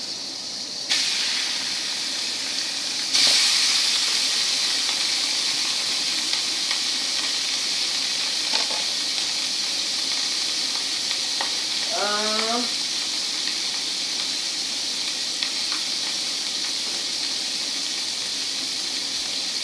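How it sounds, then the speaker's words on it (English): Steak sizzling in a pan with melted butter, a bright continuous crackling hiss that jumps louder as the meat lands, with brief clatters and a short squeak partway through. "I got some steak here. I'm going to go ahead and throw it in the pan."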